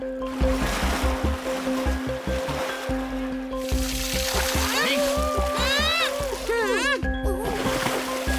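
Cartoon dolphin splashing water at the sea, with ongoing wave and slosh sounds, several bursts of splashing and squeaky whistling calls, under continuous talk.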